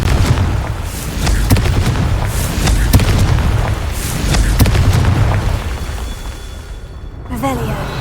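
Confringo fire spell blasts from the Hogwarts Legacy video game: a run of booming explosive bursts over rumbling game sound and score, with a brief quiet gap before a final burst.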